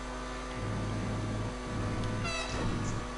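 A train in the video game GTA 5 Online rumbles along steadily as a low, continuous drone with a faint hum and a brief higher rattle near the end, with no talking.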